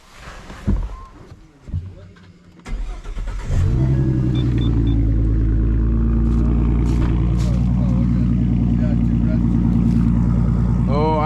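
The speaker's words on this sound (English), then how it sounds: "Oh, I love the way it idles." A V6 Ford Mustang fitted with BBK shorty headers settles into a steady, deep, rumbling idle after some brief clatter and voices, the low exhaust drone loud and close and continuing unbroken to the end.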